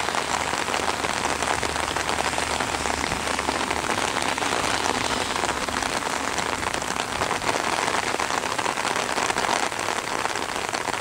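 Steady outdoor rain pattering on surfaces during a German Shepherd's tracking session, a dense continuous hiss filling the whole span with no talk.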